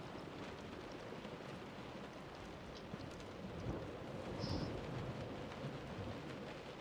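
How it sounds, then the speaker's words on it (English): Steady rain in the video game Close To The Sun, a dense continuous hiss of falling water with soft low rumbling swells, moderately loud and unbroken, without talk. "Oh, I love the rain."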